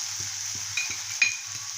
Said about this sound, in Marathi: हा गरम मसाला हे असं मस्त परतून घेते